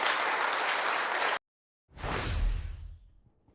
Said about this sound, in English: you notice what got the applause of that crowd, didn't it?